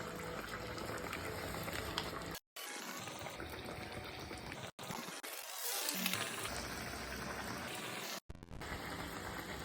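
Dal vada batter sizzles and bubbles in hot oil, a continuous loud crackling hiss with two or three brief silent breaks.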